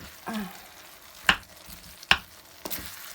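Canned sardines cooking in a pan as a spoon mashes them, a faint sizzle under a few sharp scraping knocks against the pan, spaced about a second apart.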